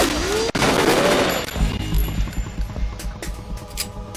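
Gunfire in Metal Gear Solid 2: a sharp shot cracks early, followed by a run of clattering, uneven rapid reports under a humming game soundtrack.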